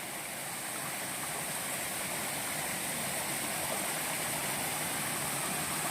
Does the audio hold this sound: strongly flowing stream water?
yes